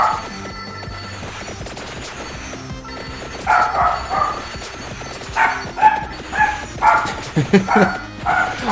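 An excited dog barks and yips in a burst of several loud, uneven calls from nearby, following a quieter stretch with game sound in the background.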